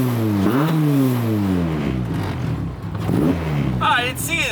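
A cold engine in a K24-swapped Honda Civic revs in rising and falling sweeps close by. A voice speaks over the engine, and a high squeal comes in near the end.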